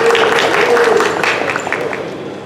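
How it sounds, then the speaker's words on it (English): Audience applause for a saxophone soloist at a college open mic music night, a dense wash of clapping with a steady sustained tone beneath it that fades gradually over a couple of seconds. "let's give him a round of applause if you can"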